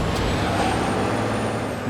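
In the Spider-Man 2 video game, a packed box truck pulls away with a steady hiss of air brakes and a low rumbling engine, sustained and loud throughout, with no voices.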